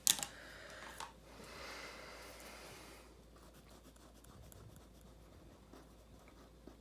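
Marker or pencil coloring a day of the dead sugar skull drawing on paper, a soft continuous scratchy rubbing with a brief burst at the start, then a faint steady stroking that fades to quiet.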